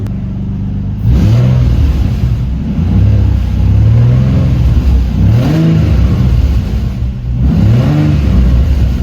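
A Nissan 350Z with a throttle fault and unplugged O2 sensors revs up, its engine rising and falling in several loud, close sweeps over a steady idle drone.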